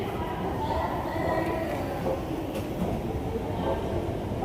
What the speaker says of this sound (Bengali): মেট্রো করে এখন আমি বাইরে দিকে যাচ্ছি